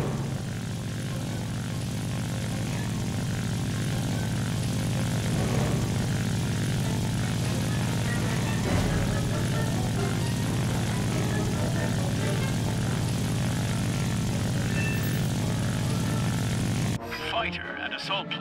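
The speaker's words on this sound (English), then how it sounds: "Right now, you're controlling an attack aircraft." Propeller-driven attack aircraft engine in the War Thunder game, a steady droning roar that holds for most of the stretch before cutting off near the end.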